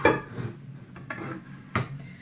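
A Caraway nonstick cookware pot being handled, with a few close clanks and knocks of metal and lid set down at irregular intervals.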